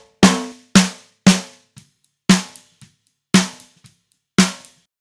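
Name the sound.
snare drum with Waves Pultec EQ cutting 500 Hz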